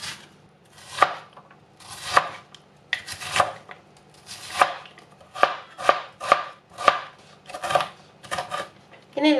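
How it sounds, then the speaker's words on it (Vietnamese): Knife dicing potatoes into small cubes on a cutting board in a home kitchen, a steady series of crisp close chops, irregular in rhythm, with no voice over it. "Anh chị em và các bạn cắt ra hạt lựu."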